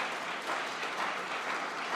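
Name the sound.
audience applause for a panel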